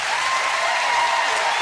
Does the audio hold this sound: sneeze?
no